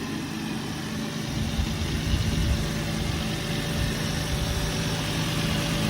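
A 2003 Volvo S60 idles at auction with a quiet, steady hum and faint vibration, close by and without speech.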